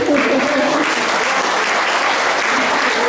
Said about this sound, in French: Je pense qu'on peut aussi l'applaudir.